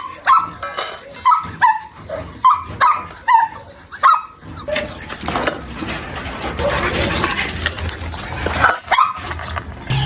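A dog barks in a quick series of sharp yaps, close by, then a burst of rustling and scraping noise with another bark near the end.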